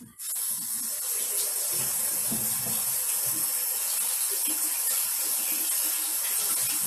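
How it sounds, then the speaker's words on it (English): Water runs from a kitchen tap as hands are rinsed, a steady close hiss that starts abruptly and holds evenly to the end, with no talk. "I got to give my hands a quick rinse"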